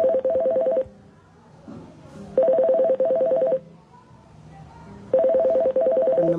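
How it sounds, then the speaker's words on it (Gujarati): A telephone call on hold plays a tone in three bursts of rapid pulsing beeps. Quieter gaps between them carry a soft recorded voice. "તમે જે વ્યક્તિ સાથે વાત કરી રહ્યા છો એમને તમારા કોલને હોલ્ડ પર રાખ્યો છે"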